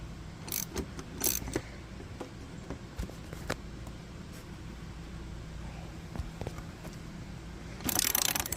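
A ratchet snugs up the 9/16 nylon-captured nuts on a Rockstar rock guard for a 2022 RAM 3500, giving sparse, close clicks and metallic clinks over a low hum, with a rattling burst at the end.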